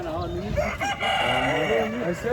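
A rooster crows loudly and close by in a long, strained call at an African market, with other fowl noises mixed in.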